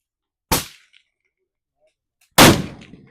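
Two sharp gunshot reports ring out at a steel challenge shooting match, about two seconds apart, each striking a steel target with a bright metallic clang that quickly decays.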